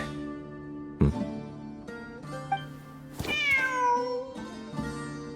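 In the Genshin Impact video game, a cat gives several distinct meows spaced a few seconds apart, one longer drawn-out cry in the middle, clear and close over a soft musical background with no speech.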